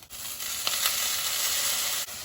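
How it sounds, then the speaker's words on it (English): Yellow lentils hit a hot pot of tempering for khichdi, giving a loud, steady sizzle and crackle with a couple of brief stirring scrapes. "I'm going to add in half a cup of yellow lentils"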